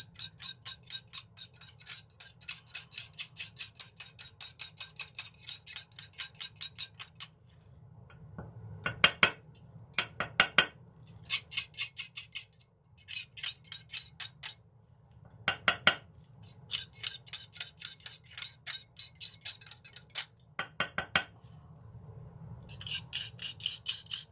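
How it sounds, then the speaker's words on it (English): Rough scraping and grinding of metal and ceramic pieces against a ceramic bowl while making gouache paint, coming in repeated bursts with brief pauses between them, close and fairly loud. "The metal does not sound as bad to me on the ceramic as the ceramic piece grinding on the ceramic"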